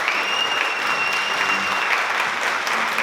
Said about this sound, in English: A round of applause for all of our panelists here today.